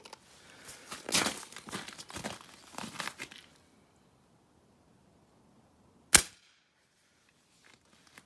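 Rustling and handling noises give way to silence, then a single sharp crack from a .177 Umarex Synergis Elite air rifle firing an 8.3 grain RWS domed pellet, followed by quiet.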